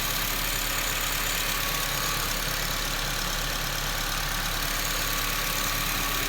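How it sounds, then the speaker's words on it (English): The 2.0-litre engine of a 2008 Honda Civic Si idles steadily up close, a continuous even hum with a busy ticking of valve train and fuel injectors, with no voices. "so you get like valve train, fuel injector noise"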